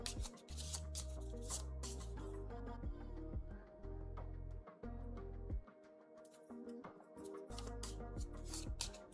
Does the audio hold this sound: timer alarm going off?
no